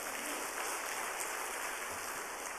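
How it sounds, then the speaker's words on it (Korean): A church congregation at a Wednesday worship service applauds together, a dense, even patter of clapping hands heard at a distance for a few seconds without pauses. "박수 한번 해주세요."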